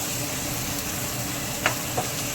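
Turmeric and Kashmiri red chili powder being stirred into hot oil in a pan for a pea curry, a steady soft sizzle with two brief scrapes of the spoon near the end.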